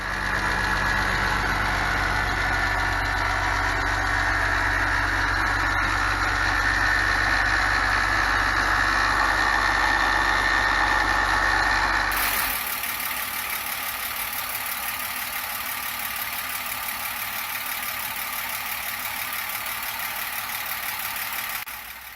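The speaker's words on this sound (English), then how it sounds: "While it was idling in the driveway, I heard some strange noises from the engine" A car engine idles steadily and loudly nearby in a driveway, a constant rumble with a fine ticking rattle from the valve train running through it; partway through the tone drops lower.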